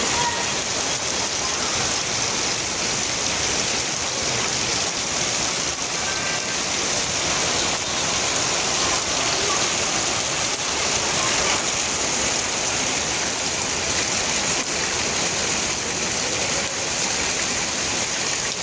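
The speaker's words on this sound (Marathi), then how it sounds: "कसला खतरनाक पाऊस पडायला लागलाय पाहू शकता" Heavy monsoon rain pours down steadily over a village, a dense, continuous roar of water with no breaks, loud and close throughout.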